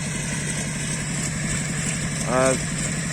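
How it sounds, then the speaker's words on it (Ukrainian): A small tractor engine idles with a low, even drone that stays steady throughout. A brief tonal whine rises over it near the end. "Сьогодні папа вирішив трошки попрацювати е, тракторцем, підготувати ділянку для посіву."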